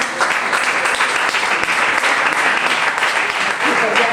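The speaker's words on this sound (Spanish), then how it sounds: "A Cristina también le gustan los aplausos." An audience at a conference lecture claps steadily and loudly, a dense, even wash of many hands that fills the whole stretch without pause.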